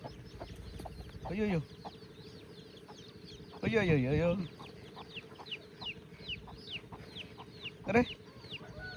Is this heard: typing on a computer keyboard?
no